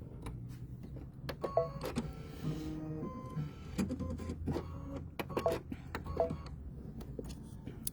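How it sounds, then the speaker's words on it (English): An embroidery machine stitches out a honey-orange segment of a bee coaster design, producing rapid mechanical whirring and ticking bursts with brief electronic beeps, quiet and close, with no speech. "it's going to do the stitching for that segment"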